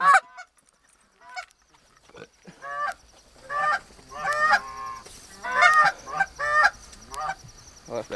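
Flocks of geese honk repeatedly during an early-season goose hunt, their calls building from sparse cries into a dense, overlapping chorus that sounds close overhead and grows louder toward the end.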